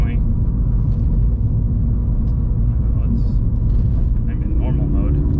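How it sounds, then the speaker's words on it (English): 2020 Toyota 86 sports car driving over a rough road under construction, heard from inside the cabin as a constant low rumble and road noise with occasional bumps, under someone talking. "this road is under construction, which is definitely adding to the noise a bit"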